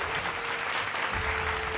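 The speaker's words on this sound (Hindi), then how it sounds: "Give a huge round of applause for him." An audience at an awards ceremony applauds with dense, steady clapping that carries evenly from start to end, loud and close, with no voices over it.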